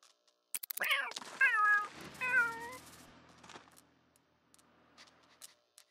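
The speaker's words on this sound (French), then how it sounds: "il y a un chat encore là." A cat in the video game The Sims 3 gives a few short, clear meows in quick succession, each rising then falling in pitch, over an otherwise quiet background with small clicks.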